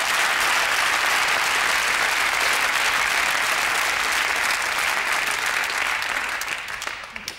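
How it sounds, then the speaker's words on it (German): Studio audience applause during a German TV total late-night show, a dense, loud, sustained wall of clapping that holds steady for several seconds before thinning out and fading near the end. "Was gibt's denn da zu klatschen?"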